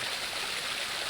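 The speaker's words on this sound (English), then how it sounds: "the waterfall comes down over the roof" A waterfall pours down over a roof, a steady broadband rush of falling water heard up close and unbroken for the whole moment, with no voices.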